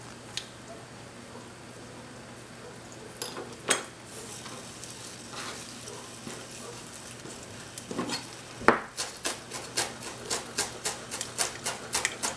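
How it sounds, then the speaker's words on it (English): Mustard seeds pop in hot oil for a curried corn dish, a constant sizzle with sharp crackling pops that grow more frequent toward the end, no voices. "We're gonna wait for the mustard seeds to pop just a little bit before we add the cumin in there."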